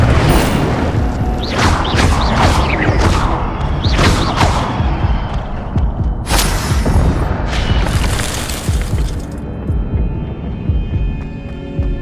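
An Incendio fire spell blasts in Hogwarts Legacy: a rapid run of loud, sharp bursts, then a heavy booming explosion that rumbles and fades into a quieter tail.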